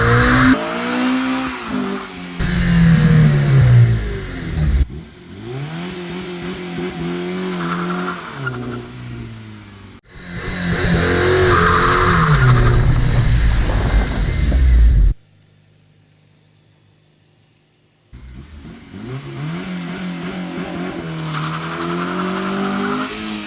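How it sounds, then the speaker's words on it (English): A car on summer tires revs hard in repeated bursts during a burnout attempt, with the engine roaring up and tires squealing and skidding. A few seconds of near silence break the run before another loud revving burst. "I thought I was gonna be able to do a burnout, but summer tires heat up super quick"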